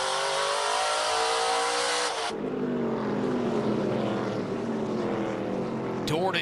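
ARCA Menards Series stock cars racing at Elko Speedway, engines roaring loudly as a pack passes close by, the pitch sliding downward as they pull away, then another car approaching at the end.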